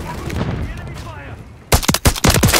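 Modern Warfare III firefight: quiet ambient murmur, then a sudden burst of several loud, close gunshots in quick succession.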